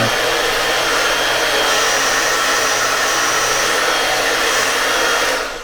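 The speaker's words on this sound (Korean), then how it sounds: "여기서 헤어드라이기 F150을 켜볼 거예요" A Chaison F150 hair dryer blowing on its cool setting in a bathroom, a loud steady whooshing hum running continuously up close, then cutting off at the end.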